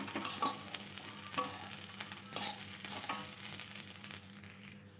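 Fried peanuts and sugar being stirred through khichuri in a pan, a steady frying sizzle with repeated scraping strokes of the spoon every second or so, close and alone.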